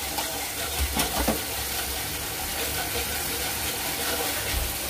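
Vegetables fry and sauté in a hot pan with a dense, steady hiss and crackle, and a few soft stirring knocks early on, loud and close.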